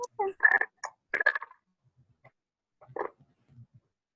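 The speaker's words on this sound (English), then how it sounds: "I have frogs all in my backyard, so it just really sounds like my backyard" Frogs croaking in a backyard, a few loud clustered croaks early on, then sparse softer calls and a final burst, close by with no one talking over them.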